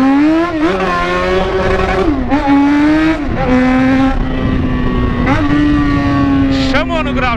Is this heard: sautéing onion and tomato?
no